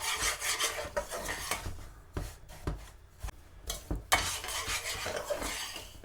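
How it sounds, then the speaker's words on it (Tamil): Semolina and coconut being dry-roasted in a pan, a spoon scraping and stirring through the grains with steady rasping strokes, close up, with a brief quieter pause in the middle. "இதை நல்லா ஒரு 5 நிமிஷம் வறுத்துட்டு பார்ப்போம் நாங்கள்."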